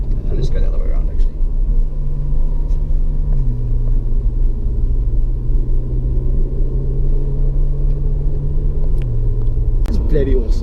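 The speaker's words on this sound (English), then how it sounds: "There's nothing like a Ferrari sound." A Ferrari 488 driven on a track holds a steady, loud, low engine drone that dips in pitch at gear changes and rises again, continuous throughout.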